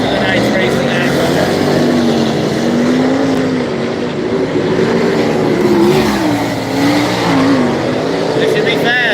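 410 sprint cars and 358 modifieds running hot lap qualifying at a dirt track, a loud continuous engine roar with rising and falling pitch as cars circle, dense and unbroken throughout.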